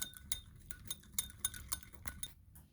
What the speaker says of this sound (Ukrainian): В глибоку мизочку кидаю яйце, білок і жовток і ложечку сметани і збиваю.